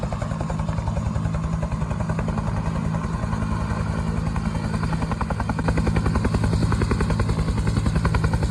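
A helicopter runs steadily close by as a firefighting brigade squad prepares to board it. Its rotor chops out a fast, even rhythmic thumping over a loud turbine drone, and the sound grows slightly louder toward the end.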